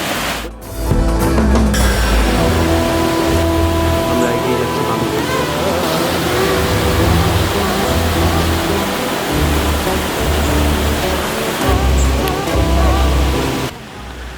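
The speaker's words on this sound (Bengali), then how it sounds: "সেই জলের ধারা নেমে যাচ্ছে আরও নিচে" A stream of water runs down a rocky hillside at Ajodhya Pahar in Purulia, a loud, steady broadband rush close by, with brief handling noise at the start and end and no voices.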